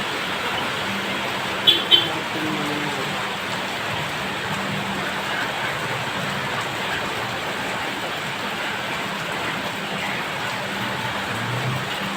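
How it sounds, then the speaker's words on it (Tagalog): Heavy evening rain pours down near a river in a prolonged downpour, a dense, loud, continuous hiss of drops drumming on surfaces, with one brief knock early on and no voices. "Mas lumalakas yung ulan ngayon gabi"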